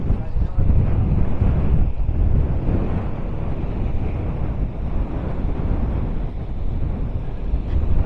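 Strong wind blasts across the microphone on a sandy beach at Maspalomas, Gran Canaria, a loud continuous buffeting roar with gusts and faint surf underneath.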